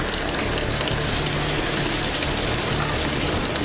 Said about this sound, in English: You couldn't see through any window because it was just slamming rain.